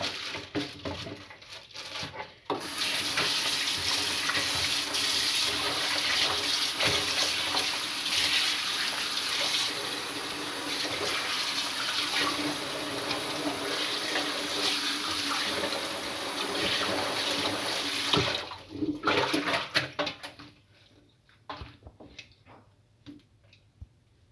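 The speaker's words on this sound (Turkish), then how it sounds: "Etimizi de yıkayalım." Meat washed under a running kitchen tap, a steady loud rush of water for about eighteen seconds, then the flow stops and a few faint drips and handling sounds follow.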